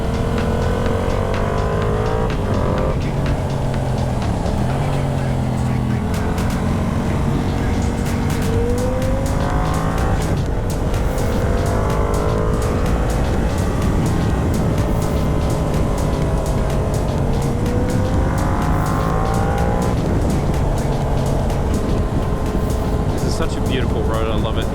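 A Yamaha R7 motorcycle riding along a road, the engine rising and falling through revs with engine braking on the downshifts, loud and close with wind rush, and a rider talking over it.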